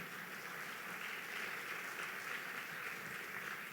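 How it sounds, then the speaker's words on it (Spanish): A church congregation applauds, a dense, steady roar of many hands clapping together that holds at even loudness throughout. "Dale fuerte un aplauso al Señor."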